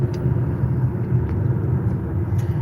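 Steady low engine and road rumble inside a car travelling along Banksville Road, a continuous drone with a few faint clicks, no voices.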